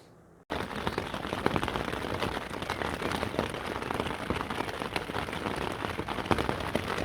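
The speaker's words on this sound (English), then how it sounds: "raining so hard out there" Heavy rain drums steadily and loudly on a tent during a wet evening on the South West Coast Path between Teignmouth and Exmouth, a dense constant patter with no voices.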